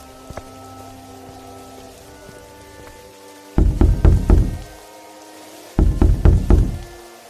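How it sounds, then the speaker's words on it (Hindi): Two bursts of rapid knocking rattle a door latch at night, each a quick series of several sharp metallic raps, close and loud over a quiet background. "इतनी रात में काहे कुंडी बजावत है?"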